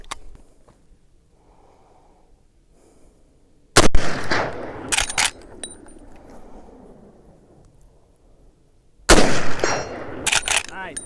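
Two sharp, loud lever-action rifle shots fired at a target roughly 120 yards out, each followed by a rolling outdoor echo, with a long quiet stretch of soft breathing between them.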